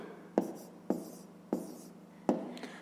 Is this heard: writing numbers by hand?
yes